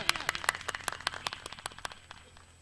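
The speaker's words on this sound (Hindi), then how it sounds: "जोरदार तालियां।" Scattered clapping honours Jaydev Shastri at a Bhim Army gathering, a fairly quiet cluster of distinct sharp claps in quick rhythm that thins out and fades away after about two seconds.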